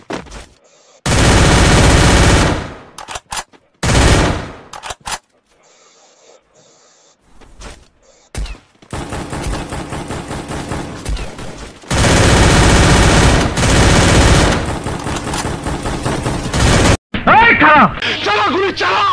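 Rapid bursts of gunfire in a comedic dubbed scene with a pistol, loud repeated volleys between shouted speech and yelling, with quieter gaps in between.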